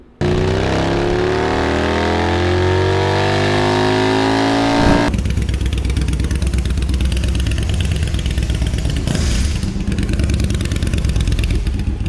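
A motorcycle runs hard on a Dynojet dynamometer, its loud, close engine climbing steadily in pitch as revs rise. It then holds at a roaring high-rpm drone for several seconds.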